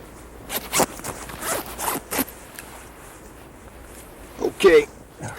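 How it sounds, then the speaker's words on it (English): Zipper on a sleeping bag pulled in short jerky bursts, several quick rasping strokes close by, then a pause before a final louder tug, with light rustling between. "Could you give me a hand? My zipper's stuck."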